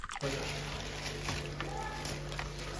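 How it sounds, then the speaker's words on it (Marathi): Wet splashing and sloshing as fish caught in a bottle trap thrash in shallow water, continuous and close, with a low hum running underneath. "पाणी किती उडवतात बघ"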